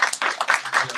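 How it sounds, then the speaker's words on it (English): Hands clap in a brief burst of applause for a panel at a women's financial inclusion workshop, several people clapping fairly near for about a second. "please, just one more round of applause for the panel"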